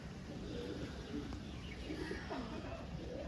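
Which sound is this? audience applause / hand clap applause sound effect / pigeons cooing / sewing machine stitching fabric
pigeons cooing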